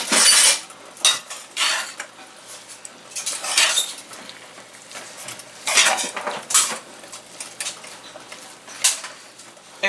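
A utensil scrapes and clinks against a pot while fresh Jamaican callaloo is folded over with butter and seasoning. The knocks come in irregular bursts, close and moderately loud, with no talking.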